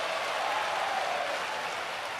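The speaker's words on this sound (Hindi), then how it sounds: "जोरदार ताली कथा करवाने वालों को बजाओ।" An audience at a Hindu religious discourse (katha) in Banda, Uttar Pradesh claps together in a steady, even wash of applause, moderately loud and unbroken, with no voices on top.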